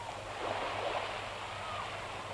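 Shallow sea water on a grey, overcast shore, where someone stands knee-deep, gives a soft, continuous wash of gentle surf, fairly faint and steady throughout, with no talking.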